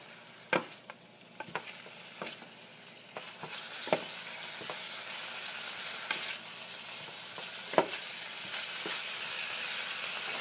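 Chicken pieces for larb are stirred while frying in a pan, giving a steady close sizzle broken by occasional utensil knocks and scrapes.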